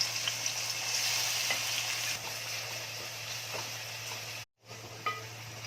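Onions sizzle and crackle steadily in hot oil while cooking chicken curry, with a few faint clinks of a utensil and a brief moment of silence near the end.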